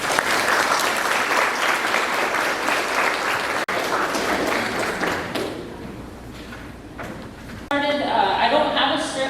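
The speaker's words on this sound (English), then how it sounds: "we can get everybody in the room today a round of applause" People in a room give a round of applause at a workplace gathering, a dense burst of clapping that thins out after about five seconds, followed by knocks and someone talking.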